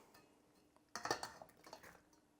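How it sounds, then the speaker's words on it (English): Cooked noodles stirred into cheese sauce in a pot on a stovetop, a spoon scraping and clinking against the metal pot in a short burst of several knocks after a quiet start. "let's add in these noodles and mix"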